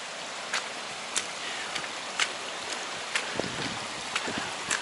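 Overflow streams run down a rain-drenched hillside near Bontddu, a steady broadband rush of water with a few faint clicks and gusts of wind over the top, no voices.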